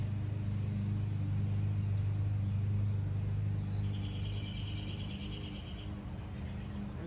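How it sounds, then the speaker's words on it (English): Robins sing in a backyard, a short run of thin, faint chirps rising midway over a steady low rumble of distant traffic. "There's lots of robins in my yard"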